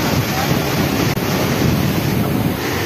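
Rough surf at a diving spot in Plaridel crashes continuously after a night of nonstop rain, heavy wind buffeting the microphone, a loud, dense roar of churning water and no voices.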